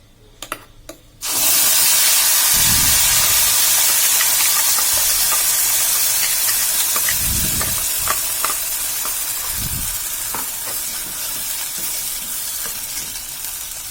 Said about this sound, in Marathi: जिरं मोहरी छान तडकून झाल्यानंतर तेलात आता आपण त्याच्यात जो आपण मसाला तयार करून घेतलेला आहे तो टाकून घे घेणार आहोत